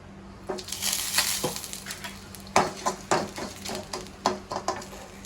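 Coriander seeds roast in a pan over a soft sizzle, with a run of irregular scraping clicks and taps as they are stirred, close by and without voices.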